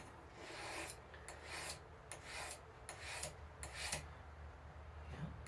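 A knife blade is drawn repeatedly across a sharpening stone, each pass a short gritty rasp in an uneven rhythm, close up and quiet, with no talk.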